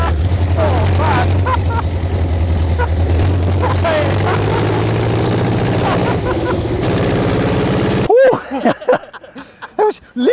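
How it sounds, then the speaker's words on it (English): An aero-engined replica car climbs the hill at Goodwood Members' Meeting, its huge piston engine roaring loudly and continuously up close before cutting off, followed by excited voices. "we might get a ride up the hill in that awesome aero engine car"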